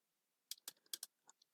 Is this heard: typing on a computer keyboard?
yes